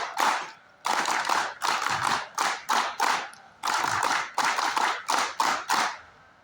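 Group rhythmic clapping at an NSS special camp inauguration, a patterned chant-clap in tight bursts of several claps separated by brief gaps, loud and close with no talking.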